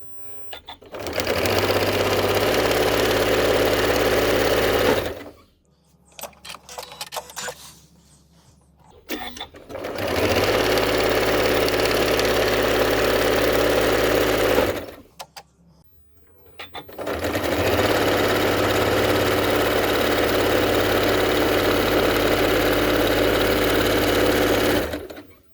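A sewing machine stitches through liquid-vinyl-coated quilt fabric layered over batting, running in three long steady bursts of a few seconds each with brief quiet pauses between them.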